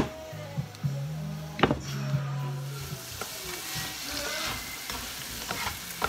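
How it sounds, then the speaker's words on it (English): Jerk sauce for mahi-mahi cooking in a pan on the stove, a constant close sizzle and bubbling with a few clinks and scrapes early on, no talking. "I'm going to let it simmer for a little bit"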